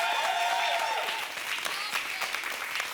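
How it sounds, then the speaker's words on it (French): An audience at a church gathering in Paris applauds, a dense, steady wash of clapping that stays loud throughout the few seconds. "Alors on peut applaudir bien fort"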